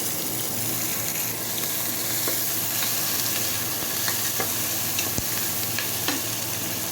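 Onion, curry leaves, dried and green chillies and crushed garlic sauté in a pan for a Kongu-style rice and dal dish. A continuous close sizzle runs throughout, dotted with crisp pops and crackles.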